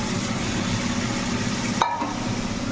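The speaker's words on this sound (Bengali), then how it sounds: "আমার কচুরলতিটা ভাজা ভাজা হয়েই গেছে" Prawns and taro stolons fry together in a pan, making a continuous close sizzle with stirring noise, broken once by a short sharp clack of a utensil near the end.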